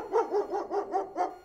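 A dog barks six times in a quick, even run of close, clear barks, with no other sound around them.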